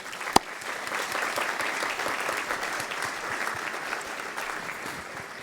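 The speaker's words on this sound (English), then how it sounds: "we should give them a round of applause." A room full of attendees at a congressional AI boot camp gives the event staff a steady round of applause, a sharp clap standing out at the start before the even, moderately distant clapping carries on.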